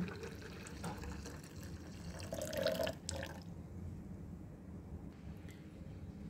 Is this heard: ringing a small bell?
no